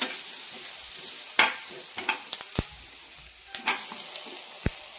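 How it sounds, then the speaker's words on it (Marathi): Garlic, tomato, ginger and green chillies roasting in a pan, with a constant soft sizzle broken by a handful of sharp spatula scrapes and taps, close by. "लसूण, टोमॅटो, आलं, 2 हिरव्या मिरच्या चांगलं भाजून घ्यायचं"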